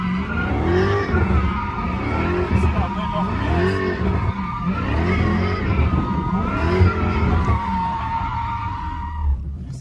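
A Hellcat-powered Jailbreak 300 slides with skidding tires, sending out repeated rhythmic tire squeals over a surging engine, loud and close throughout.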